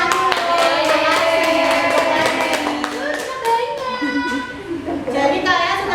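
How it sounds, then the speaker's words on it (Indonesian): Children in an elementary classroom clap their hands together in a burst of rapid, overlapping claps, with children's voices chattering and calling out alongside. "Tepuk tangan dulu."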